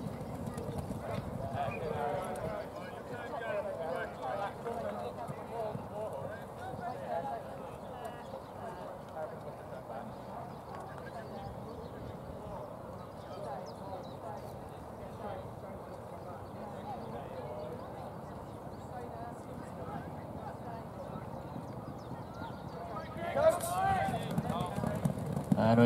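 Pony hooves galloping at a mounted games race at the Welsh Championships, a steady stream of clip-clop hoofbeats on turf under continuous commentary and crowd noise, with a louder burst near the end.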